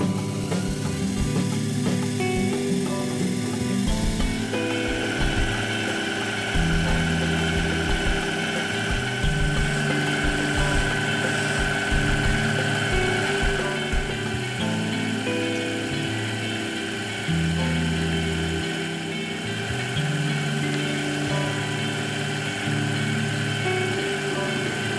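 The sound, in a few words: lathe running during hand turning of screw ends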